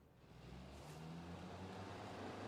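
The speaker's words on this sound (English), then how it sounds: "He heard Victor's car" A car engine in a video game hums and rises in pitch as the vehicle accelerates, a low steady drone growing slightly louder.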